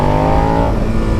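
A 2017 Suzuki SV650 motorcycle engine is revved hard for a wheelie, a loud, close, rising buzzing roar that climbs in pitch and then drops away over about a second, with no talking.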